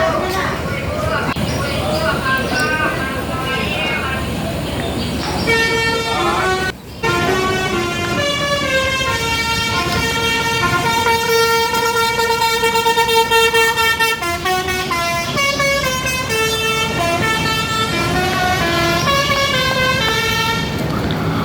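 A Gumarang Jaya bus pulls out of Terminal Baru Solok bound for Jakarta, sounding loud sustained multi-tone horn blasts over steady engine rumble while someone talks throughout.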